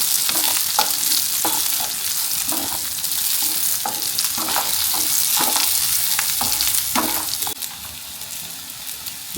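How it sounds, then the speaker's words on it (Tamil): Curry leaves sautéing in a pan for a Pallipalayam-style dish, a continuous close sizzle punctuated by rhythmic scraping stir strokes, loud and alone. "கறிவேப்பிலை போட்டுக்கலாம். இதை கொஞ்சம் நல்லா வதக்கி எடுப்போம்."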